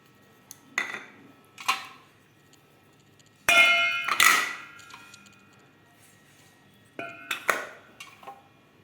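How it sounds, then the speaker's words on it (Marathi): Whisking gram flour batter in a bowl with coriander, coriander powder, chaat masala, chutney, turmeric and salt: a few short bursts of clinking utensil-on-bowl strokes, close up with quiet pauses between them. "हे मीठ आता त्याला चांगलं पातळ फेटू आपण"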